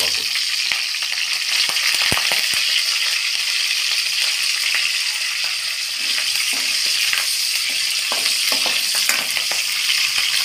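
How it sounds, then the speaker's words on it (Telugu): Green chilies, bay leaf and curry leaves sizzle steadily in hot oil in a pan, a continuous loud frying hiss with occasional stirring clicks and scrapes. "ఐటమ్స్ని కొద్దిగా వేగనివ్వండి"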